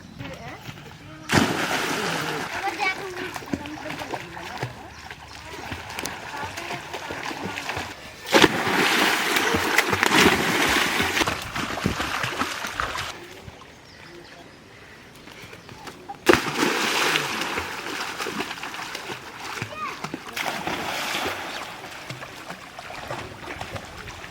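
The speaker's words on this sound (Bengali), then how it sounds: "পুকুরে চান করতে নেমেছে। কি সাঁতার কাটে বাবা রে" A child splashes and sloshes while swimming in a pond, with bursts of water noise rising and falling over about twenty seconds, close by, with people talking in the background.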